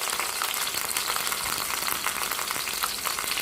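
Boiled food fries lightly in a small amount of oil, giving a dense, even sizzle with fine crackling spatters throughout, close and steady with no voices.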